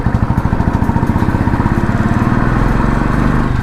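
A Royal Enfield Bullet motorcycle with an aftermarket silencer, cruising at about 40, puts out a loud, close, rapid thumping exhaust beat that runs steadily the whole time.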